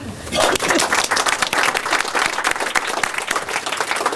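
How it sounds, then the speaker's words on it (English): Audience applause at a parliamentary reception, a dense steady patter of many hands clapping together, loud and sustained throughout without speech over it. "So let's just give them a clap."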